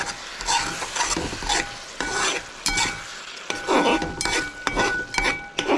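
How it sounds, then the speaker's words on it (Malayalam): Aviyal vegetables being stirred in a pan, with repeated scraping and clinking strokes of a utensil against the metal over a low sizzle, close and steady. "ഇനി നമുക്കൊന്ന് ഇളക്കി നോക്കാം അത് ഇങ്ങനെ ഇളക്കാം"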